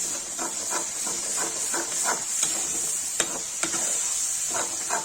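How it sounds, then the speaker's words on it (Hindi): Onion and ginger-garlic paste sizzle hard in a hot pan for butter chicken, with a constant bright hiss and regular scraping stirs of a spoon every half second or so, close and loud with no talking. "इसमें डालेंगे प्याज, इसमें डालेंगे अदरक लहसुन का पेस्ट, इसे चला देंगे।"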